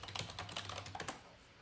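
Rapid typing on a Mac computer keyboard, a dense run of close, clattering keystrokes over a low hum, easing off into quiet after about a second.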